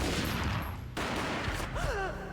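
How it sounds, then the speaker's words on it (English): Gunfire rings out in the Max Payne video game from 2001, a loud burst of shots with a dense rattle that cuts off abruptly, followed by ringing tones and a fading tail. "A gunshot boomed and she fell down in slow motion"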